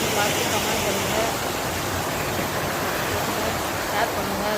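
Water flowing in a stream, a loud, close and steady rushing wash that holds without pause for several seconds.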